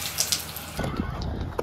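A garden hose sprays water over a sweaty horse, a soft steady hiss of spray starting partway through with brief splashes and faint rustling, fairly quiet and close.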